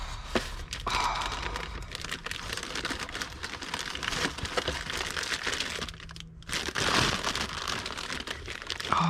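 Paperwork and stickers being unpacked from a CL1 drone box: close, continuous paper crinkling and rustling with a few sharper crackles, plus a brief pause near the end.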